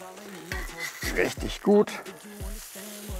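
Onions sizzle on a hot charcoal barrel grill as they are pushed around, a soft frying hiss with scraping stirs under a man's close, lively speech.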